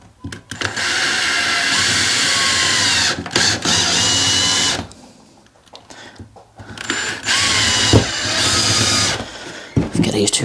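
A power drill works wood while shed furniture is built, running in two long, steady whirring bursts separated by a pause in which someone talks, with short start-stop revs near the end.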